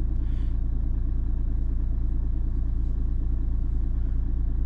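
A Renault Scénic engine idles steadily, a close, even low rumble with a fine rhythmic clatter and no talk over it.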